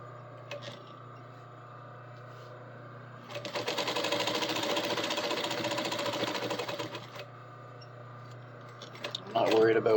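A sewing machine runs steadily for several seconds stitching a jeans back pocket, with quieter handling before and after and a brief louder rustle at the end; speech occurs nearby.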